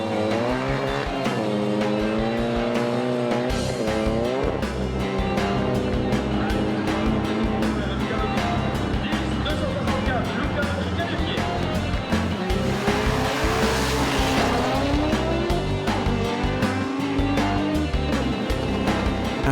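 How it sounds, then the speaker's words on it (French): A Lancia Delta Integrale races a Honda Civic, engines revving and wailing through gear changes with tyre squeal, loud and continuous, overlaid by music and a commentator talking. "Il a été finaliste en 2005 sur une Lancia Delta intégrale et court maintenant contre la Honda Civic de Witold Karaloff"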